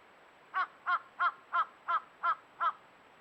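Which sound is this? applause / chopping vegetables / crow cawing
crow cawing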